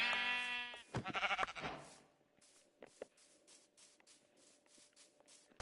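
Sheep bleating in the Minecraft video game, two or three harmonic bleats up close at the start, then quiet game ambience with soft rhythmic shuffling footsteps.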